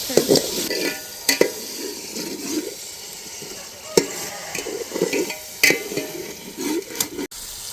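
Onion paste frying in a pan for village-style fish curry, stirred with repeated scraping strokes over a steady close sizzle, with occasional sharp knocks of the spoon against the pan.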